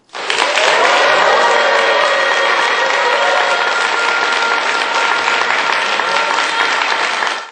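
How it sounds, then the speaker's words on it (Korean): A lecture-hall audience at a motivational talk gives loud, sustained applause mixed with cheering, starting abruptly and holding a dense, even roar before cutting off at the end. "자기 자신에게 박수와 함성을 보내주시면서"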